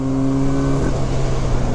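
A 1979 Yamaha RD400 F Daytona Special motorcycle with engine upgrades accelerates around 4,500 RPM, giving a loud, steady, buzzing drone up close that briefly drops in pitch partway through, as if shifting gear.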